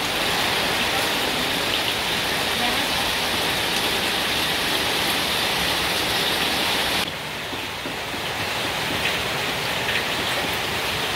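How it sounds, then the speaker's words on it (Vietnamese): Rain pours down outdoors beside an open cooking fire where sugarcane-grilled snakehead fish is being cooked, a dense, steady hiss throughout that eases slightly partway through. "Ôi mưa."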